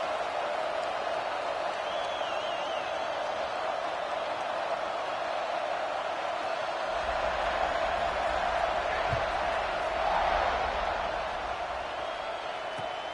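A stadium crowd at a Texas A&M college football game roars in a constant, dense wash of cheering that stays steady from start to finish, heard from within the stands.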